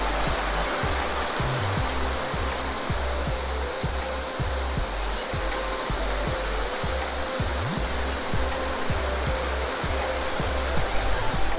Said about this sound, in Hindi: पानी का बहाव